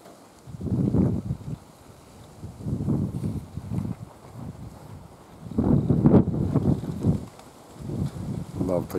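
Strong gusty wind blowing through swaying trees outside, rising and falling in loud buffeting bursts across the microphone, with several swells and brief calmer gaps.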